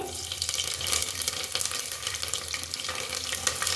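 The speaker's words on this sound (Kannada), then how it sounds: "ಎಣ್ಣೆ ಚೆನ್ನಾಗಿ ಕಾದಿದೆ ಇವಾಗ ಕರ್ಬೇವಿನ ಸೊಪ್ಪು ತುಂಬ ಚೆನ್ನಾಗಿರುತ್ತೆ ಜಾಸ್ತಿ ಸ್ವಲ್ಪ ಹಾಕ್ಕೊಳ್ಳಿ" Curry leaves frying in hot oil in a pressure cooker, a steady close, loud crackling sizzle that holds without letup throughout.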